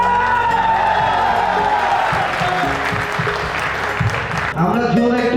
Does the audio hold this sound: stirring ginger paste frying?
no